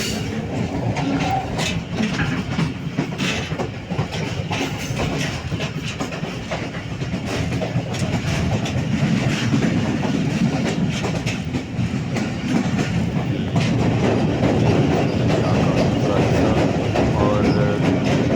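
Passenger train running from Malakwal to Faisalabad, a continuous loud rumble with rhythmic clickety-clack of wheels over rail joints, heard from on board.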